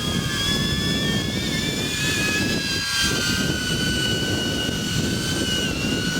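A DJI Avata FPV drone hovers close by with a constant loud buzzing whine, its rotor tones sliding slightly in pitch as it flies and settles in to land, with no voices over it.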